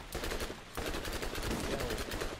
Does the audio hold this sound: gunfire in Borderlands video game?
yes